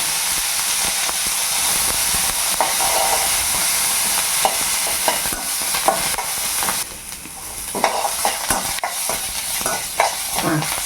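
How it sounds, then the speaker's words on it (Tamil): Loud, steady sizzling and hissing from onions and chana dal sautéing with salt in a pan, with occasional scraping stirs, close up and continuous. "உப்பு போட்டோம் வதக்கலாம் சரியா"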